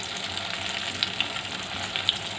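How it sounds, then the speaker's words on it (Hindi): Arbi (taro) leaf pakoras fry in hot oil with a continuous bright hiss and crackle, broken by a few sharp pops. No voices. "ऑयल हमारा गर्म हो चुका है। हम इसमें ये अरबी के पत्तों के पकोड़े इसमें डालते जाएंगे।"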